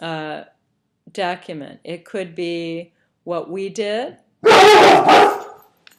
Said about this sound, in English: Sorry for my dog to be barking.